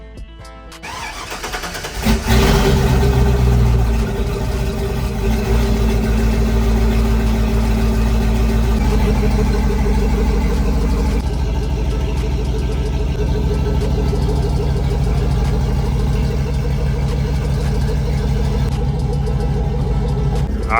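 A cammed single-cab Chevrolet Silverado truck, nearly straight-piped, roars loudly as it accelerates hard on a freeway, a deep steady engine rumble with rising pulls and audible transmission shifts, running continuously with no talking.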